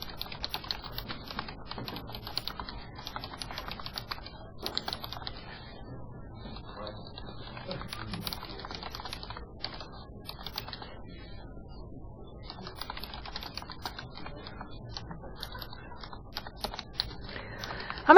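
Computer keyboard being typed on at a steady, fairly quick pace, with short pauses between bursts of key clicks; close and moderately quiet, with no voices.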